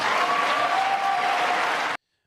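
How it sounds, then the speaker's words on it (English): Democratic lawmakers at a North Carolina State of the State address burst into a dense wash of applause and cheering that holds steady for about two seconds, then cuts off abruptly. "A big cheer there from Democrat lawmakers"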